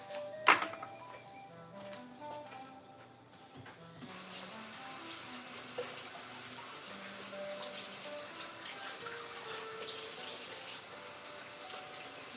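Tap water runs into a kitchen sink as celery is washed under it. The flow starts after a few quiet seconds and then holds a steady, soft hiss, with faint tonal sounds in the background and no talking.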